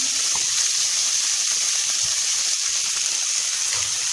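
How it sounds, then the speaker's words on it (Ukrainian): Constant close-up hiss of food frying in a pan, an even sizzle with no talking. "Обжарюємо."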